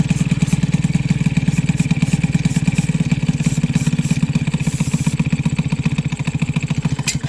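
A moped engine fitted with a custom TPU intake pipe idles low and unevenly, a steady rapid thumping putter with metallic clatter, close and continuous with no talk.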